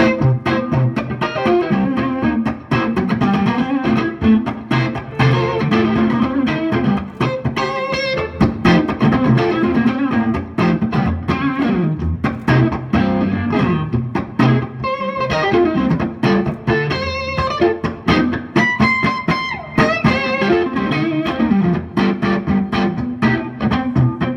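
A heavily distorted electric guitar, played through a compressing amp, chugs out a bouncy, rhythmic pattern, loud and compressed, with no voices.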